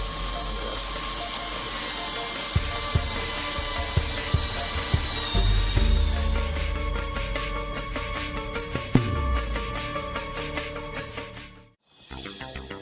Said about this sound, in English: will now begin to drill into Grace's skull to prepare to expose her tumor